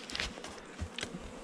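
Honey bees buzzing around an open hive during an inspection in which drone brood is cut out and bees are removed, a faint, fluttering hum with a few brief close passes and no talking.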